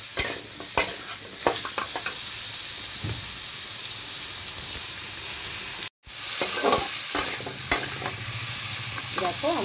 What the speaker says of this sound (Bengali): এবার সবজিটাকে একটু ভাজা ভাজা করে নেবো